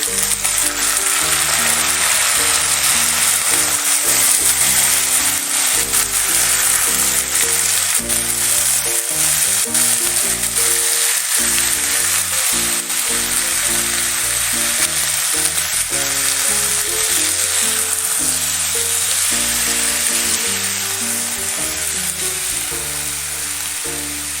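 Chicken pieces fry in a pan for a winter vegetable chicken stew, giving a loud, continuous sizzle with steady crackle that carries on unbroken, alone with no talk, while a faint tonal background hum sits underneath.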